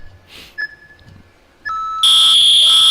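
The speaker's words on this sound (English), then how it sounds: "the whistle means we have hit the end of the time, stand them back up" A referee's end-of-time timer signal sounds at a youth MMA championship. A few short, thin beeps come first, then a loud, sustained electronic buzz for about a second over a faint arena background.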